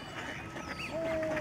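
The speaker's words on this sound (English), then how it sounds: "There's lots of ducks." Ducks at a migratory bird sanctuary give faint, brief calls, with a thin whistling note near the end, against quiet outdoor ambience.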